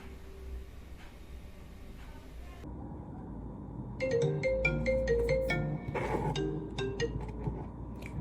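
A phone ringtone plays a bright repeating melodic tune, starting after a few seconds of quiet background hum and sounding moderately loud and close, with no talk over it.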